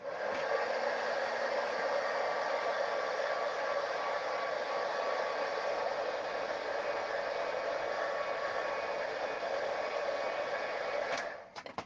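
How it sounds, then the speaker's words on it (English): Heat gun blowing steadily over Versamark ink on paper, a constant airy whooshing roar lasting about eleven seconds before cutting off abruptly at the end. "let me just run the heat gun over this for a second"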